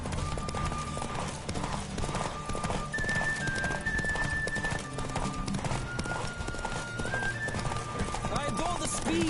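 A horse gallops in The Witcher 3 with a continuous, rapid clip-clop of hooves and an occasional whinny, set against faint sustained background tones.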